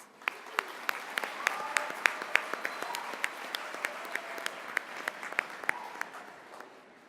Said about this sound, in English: Let's give AGR one more big round of applause.